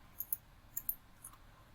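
A computer mouse gives a few crisp, faint clicks, two quick pairs and a softer single, in a quiet room while drawing sketch geometry in Inventor CAD software.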